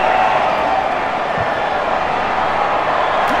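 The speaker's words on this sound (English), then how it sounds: "Crowd enjoyed that tackle" Steady, dense roar of a stadium crowd in Rugby Challenge 4, a continuous wash of cheering that holds at an even, loud level from start to finish with no voices standing out.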